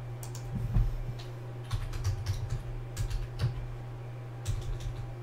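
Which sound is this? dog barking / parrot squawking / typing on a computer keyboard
typing on a computer keyboard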